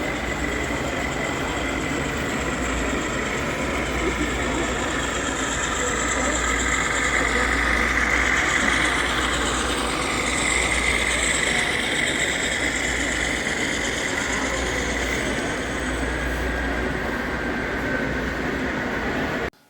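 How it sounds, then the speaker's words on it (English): An HO scale model train at a train show plays a GE diesel locomotive engine sound, a continuous rumbling drone with a faint horn-like tone, loud and steady throughout before cutting off abruptly at the end. "that pretty much sounded like an accurate GE, typical GE locomotive to me"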